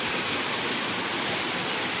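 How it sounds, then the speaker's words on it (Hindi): Gumar Mundi waterfall pouring down, a dense steady roar of falling water, loud and close, with no other sounds over it. "केमते पडु छि झरना"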